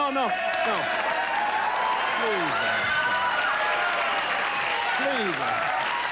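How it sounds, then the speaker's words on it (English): Studio audience applause at a 1986 late-night television talk show, sustained and dense clapping from a large crowd that keeps going steadily while a voice talks over it. "Please, no more clapping."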